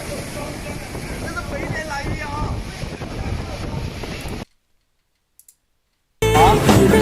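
Strong typhoon wind during Typhoon Yagi in Vietnam roars and buffets the microphone in a loud, continuous gusty rush. It cuts to near silence with a couple of faint clicks, then resumes as a sudden loud blast.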